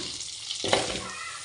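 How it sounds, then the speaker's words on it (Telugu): Cubes of paneer hit melted butter in a pan and start to sizzle, with a sudden close crackle that settles into a steady frying hiss. "కొంచెం బటర్ కాగాక పన్నీర్ యాడ్ చేస్తాను. బటర్ కాగింది."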